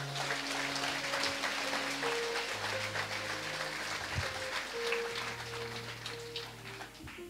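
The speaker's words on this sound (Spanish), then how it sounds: "Fuerte aplausos a Jesús." A church congregation applauding at a sermon on marriage, a dense steady clapping over sustained tones from instruments or a keyboard, fairly loud and close.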